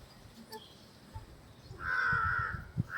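A crow gives a drawn-out caw in the morning air, the call standing fairly clear over a low background with no talk.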